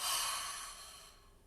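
A single loud breath out as part of a breathing exercise, a strong airy exhale that begins sharply and trails off slowly over about a second and a half.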